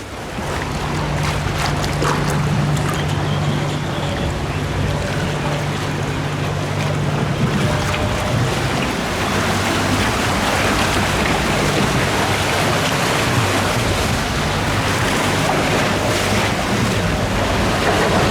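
A long boat ride on water at Energylandia theme park, heard as a steady, loud wash of splashing water and wind rushing across the microphone, continuous throughout with a low hum underneath.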